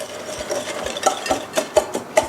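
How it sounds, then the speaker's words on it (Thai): Brown sugar and baking soda stirred in a bowl, a utensil scraping and clicking against the sides in a steady rhythm that grows more pronounced toward the end, close and clear with no talking. "ใส่ทั้งหมดนี้แล้วคนให้เข้ากันก่อน"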